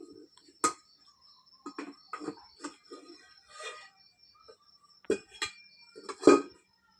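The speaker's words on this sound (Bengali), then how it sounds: "আধ ঘন্টা হয়ে গেল এবার ঢাকাটা খুলে দেখি" Metal lid lifted off a pot on a clay stove, a series of clinks and knocks with a sharp clatter of metal near the end, close and fairly loud against an otherwise quiet background.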